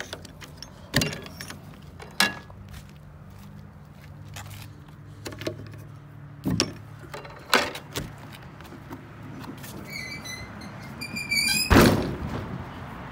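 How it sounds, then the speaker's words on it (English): The rear ramp door of a 2019 SnoPro 101x12 hybrid aluminum enclosed two-place snowmobile trailer, which is spring assisted, is lowered. Scattered metallic thunks and clanks lead to a louder rattling thud and some jangling near the end. "We'll just pop down this rear door"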